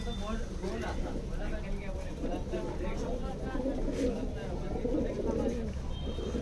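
A flock of about seventeen or eighteen Madrasi pigeons coos softly in low, rolling calls, with someone talking over them.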